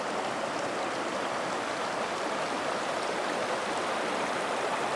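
Horse Creek, a large mountain creek in the Sierra Nevada, rushes steadily and loudly nearby, a dense unbroken wash of flowing water with no talking.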